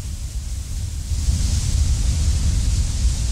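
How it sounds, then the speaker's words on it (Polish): A rushing waterfall in the video game Resident Evil Village roars as a steady, dense wash of broadband noise, loud and constant, with no talking over it. "Słychać wodospad?"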